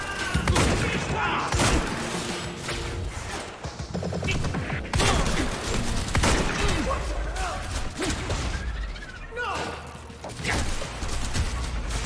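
Gunfire in Quantum Break rattles in dense bursts and scattered sharp shots amid crashes and whooshes of combat, continuing with voices shouting over the fight.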